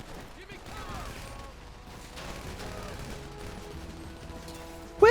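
Gunfire in the Grand Theft Auto V game: scattered shots and crackling bursts run under game sounds and some voice, ending in a sharp loud report right at the close.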